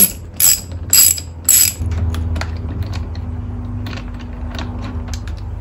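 A ratchet turning a 10mm hex bit on a steering wheel bolt, a few sharp bursts of clicking followed by a quieter steady mechanical whir, close and loud, with no talking.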